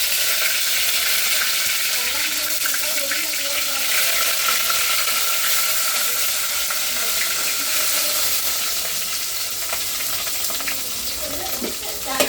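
Chopped onion fries in oil with mustard seeds for a chicken dish, a dense, loud, unbroken sizzle with faint crackles throughout, close to the pan.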